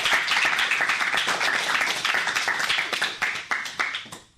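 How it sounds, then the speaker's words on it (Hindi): Applause for a group of schoolchildren after their Sanskrit mantra recitation at a school event, with dense, sustained clapping from a crowd for about four seconds that thins into a few scattered claps at the end. "तो इसके लिए तालियां तो बनती ही है।"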